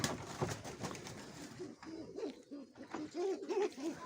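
Young Mykolaiv pigeons coo quietly up close, a few soft rolling calls repeating over several seconds against a hushed background.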